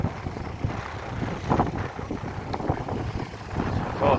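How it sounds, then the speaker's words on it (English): Strong wind buffets the microphone outdoors in Corralejo, Fuerteventura, a steady loud roar with gusty surges throughout and no talking. "it's very windy"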